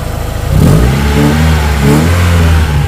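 A Timor DOHC sedan, modified to contest spec, revs hard in a couple of loud, close bursts over a rumbling idle, with no one talking.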